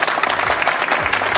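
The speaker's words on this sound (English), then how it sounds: "Let's applaud them now." Steady, loud crowd applause fills the whole stretch, a dense wash of many hands clapping to welcome guests arriving on a podcast, with faint voices mixed underneath.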